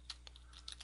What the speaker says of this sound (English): And then you can type in